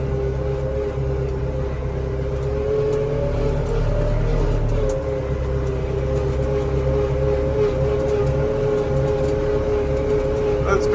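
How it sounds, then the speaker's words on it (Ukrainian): A tractor reverses in second gear at night while ploughing a field after soybeans, its engine a loud, steady, close diesel drone with a constant low rumble throughout. "І на другій передачі шпаримо назад"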